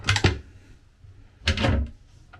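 Pantry cabinet drawers on a cruising monohull sailboat sliding and thudding, two quick wooden knocks close together followed by a longer rolling clunk, fairly near and quiet.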